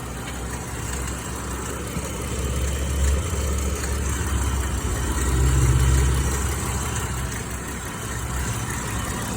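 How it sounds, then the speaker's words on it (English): A 2017 Dodge Grand Caravan engine idling after a rocker arm repair, a smooth, even low hum close by with a gentle swell in the middle and no voices. "It sounds like the engine is purring like a kitten."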